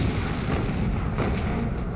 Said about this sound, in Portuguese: Os canhões de 127 milímetros do USS Laffey abrem fogo